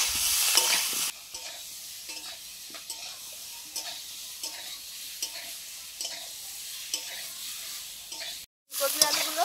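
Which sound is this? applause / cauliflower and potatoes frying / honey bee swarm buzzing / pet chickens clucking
cauliflower and potatoes frying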